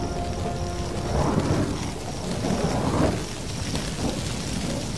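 Thunder from a lightning storm over dry grassland in wild Brazil rolls in repeated low swells beneath a steady rain-like hiss, loud and continuous throughout.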